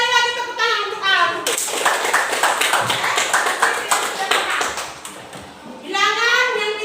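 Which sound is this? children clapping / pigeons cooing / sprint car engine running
children clapping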